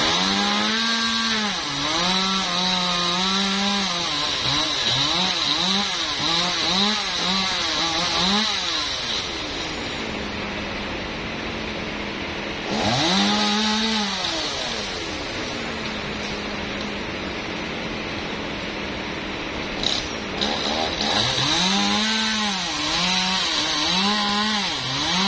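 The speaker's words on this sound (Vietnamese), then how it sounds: "Bây giờ cưa ăn cho nó ngã nè các bạn ơi." A chainsaw cutting through a large eucalyptus tree, loud and close, surging in repeated bursts of revving between stretches of steady idling.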